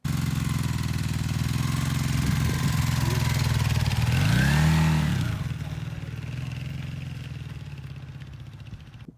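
A Honda CB400 TII motorcycle engine runs steadily at close range, a low throbbing idle that rises into a brief rev near the middle before settling back to a smooth idle.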